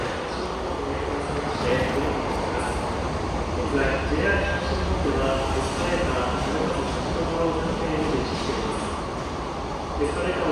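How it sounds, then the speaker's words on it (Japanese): A freight train rolls past at Koriyama station in Japan, a steady, loud, close rumble of rail noise lasting throughout, with faint indistinct voices in the background. "貨物列車が。"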